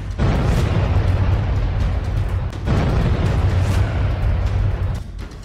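Bombs explode in a continuous, heavy roar from a war bombardment, identified as KAB-500 bombs dropped on Ukraine. The rumble is loud and sustained. Two fresh blasts land at about 0.3 and 2.7 seconds, and no one speaks.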